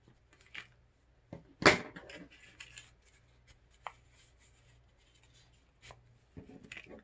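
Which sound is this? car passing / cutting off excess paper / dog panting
cutting off excess paper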